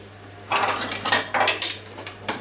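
Pans and cutlery clatter in a run of sharp metallic clinks and scrapes while pancakes are made in two pans at once. The close knocks come in quick irregular bursts over a low steady hum.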